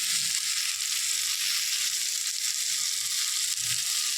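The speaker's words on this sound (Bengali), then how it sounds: "দিয়ে এবার মশলাটাকে আমি কষাবো" Spice masala paste fries in oil after sugar is added, a dense, continuous close sizzle that stays even and loud throughout with faint stirring underneath and no voices.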